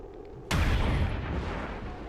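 A sniper rifle takes an overwatch shot in XCOM 2, one sudden loud blast that rings out into a long, rumbling tail.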